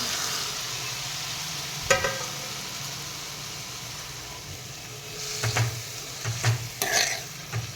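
Wild monsoon mushrooms fry in a hot pan, a steady close sizzle punctuated by a sharp knock early on and a run of stirring clatters and scrapes toward the end, with no talk.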